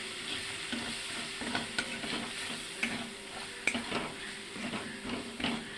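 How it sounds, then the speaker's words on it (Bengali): Salt, turmeric, cumin and chili powder masala sizzles softly in a pan for a Bengali prawn malai curry. A spoon scrapes and stirs it in steady repeated strokes. The sound is quiet and close. "আর মশলাটাকে সুন্দর করে ভাজতে হবে।"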